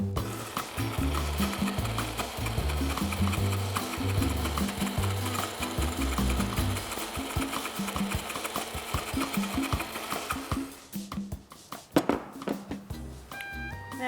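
A running blender mixing basil with olive oil, a loud, steady whirring motor drone with rhythmic churning that thins out and falters near the end.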